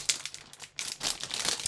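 A plastic package of A4 250g glitter card stock crinkles and rustles close up in a few quick bursts while it is being opened.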